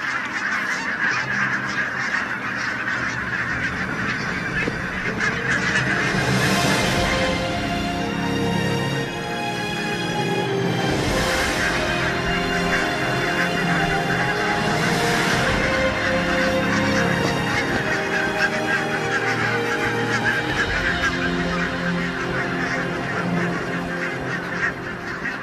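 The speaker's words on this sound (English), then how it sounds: "Barnacle geese." A large flock of barnacle geese honking continuously, a dense chorus of overlapping calls, some louder nearby and many more distant.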